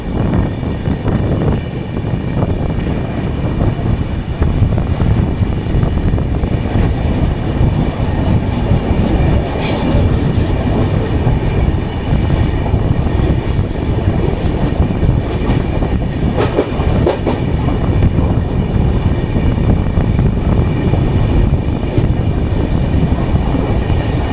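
The Deccan Queen express rumbles steadily along the Pune–Mumbai line near Palasdhari station for the whole stretch, loud and close, with wheels clattering and occasional metallic squeals cutting through.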